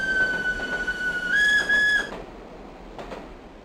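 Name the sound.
nostalgic passenger train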